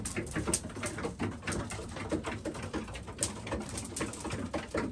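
Racing pigeons coo at a loft in a soft, repeated rolling rhythm, several birds close by with light flutters and scuffles mixed in, no talking.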